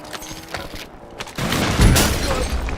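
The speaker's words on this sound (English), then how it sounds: "Enemy precision airstrike." A precision airstrike in a video game lands as a rumbling burst of explosive impacts and crackling blasts, which swell sharply after a quieter stretch of scattered gunfire.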